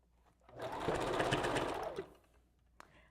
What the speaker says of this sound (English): I am going to go ahead and back stitch this area and then keep going.